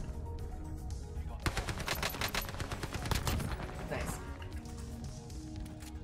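Video game gunfire in an Operation Monarch match, rapid bursts of automatic shots crackling for a few seconds, fairly loud amid game noise and voices talking.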